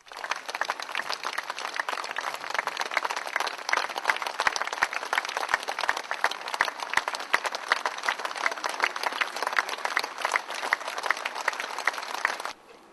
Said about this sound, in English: broke into applause that rippled through the crowd on the bright autumn afternoon